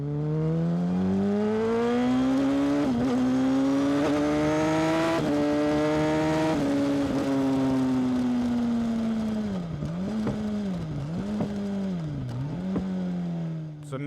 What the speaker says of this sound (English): Some nice little pops in there as well on the downshifts.